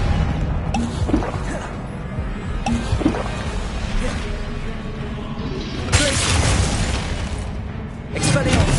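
Confringo blasting spell explosions in Hogwarts Legacy, heavy booming bursts around the three-, six- and eight-second marks over a dense, continuous bed of game noise and effects.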